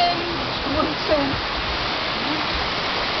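Continuous broadband rush of Munising Falls, a waterfall in Michigan, a steady roar of falling water heard close, with faint voices blending into the noise.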